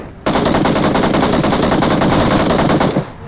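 Loud, rapid machine-gun fire in a video game, a continuous burst of automatic shots lasting about three seconds, with no talk.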